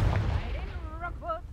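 A Confringo spell blast in the Hogwarts Legacy video game opens with a deep, booming rumble, then fades into higher whistling tones and a brief voice-like sound.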